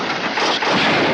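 Gunfire in a Wild West film scene, a dense, continuous roar of overlapping rifle shots and echoes, loud and sustained without pause.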